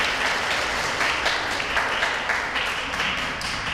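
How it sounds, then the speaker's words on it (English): An audience gives a performer a big round of applause, with dense, steady clapping filling the room throughout. "applause"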